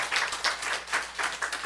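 A church congregation applauds during a Sunday sermon, giving a short burst of dense, overlapping clapping that swells and dips over under two seconds, fairly close and moderately loud, with no voices over it.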